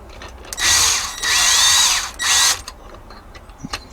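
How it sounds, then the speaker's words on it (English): An electric drill whines in three short, loud bursts close up during a Corgi 806 Lunar Bug toy restoration, its pitch rising and falling as the motor spins up and slows, with quiet gaps after. "Oh, my bloody drill won't hang up now."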